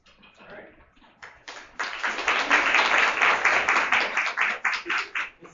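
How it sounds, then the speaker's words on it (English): An audience at a Facebook for Business talk claps for a speaker walking on stage, the applause swelling in after a quiet start and holding steady and loud for several seconds before trailing off into a few scattered claps. "It still shocks me that I get applause for doing nothing but walking like 8 feet."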